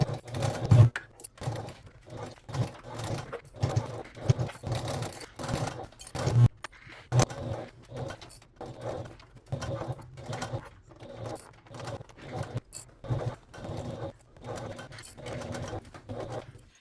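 A sewing machine stitches a 3/8-inch seam along a crossbody bag gusset in short bursts of rapid close mechanical chatter, broken by pauses and handling clicks.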